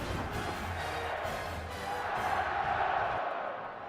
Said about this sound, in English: All of a sudden, this crowd has come alive, down 10.